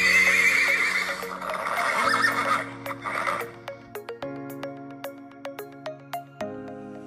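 Farm-kept white mares whinny loudly up close in long, shaky neighs, followed by a steady sequence of sharp clip-clop hoof knocks on a hard surface, with no speech.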